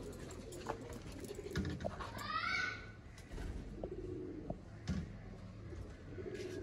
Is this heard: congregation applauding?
no